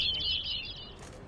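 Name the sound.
noisy bird chirping in The Witcher 3 video game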